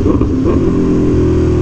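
A motorcycle sweeps past close by, a loud, steady engine drone with a brief rise in pitch, heard from beside an Aprilia Tuono V4 1100 Factory sport bike with no talking.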